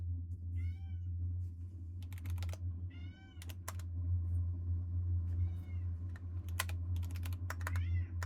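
A cat meows several times, fairly close, over quick bursts of keyboard typing and a steady low hum.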